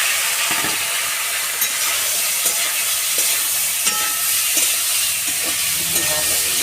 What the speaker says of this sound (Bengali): নিম গুঁড়ো দিয়ে আজকে আলু ভাজা করছি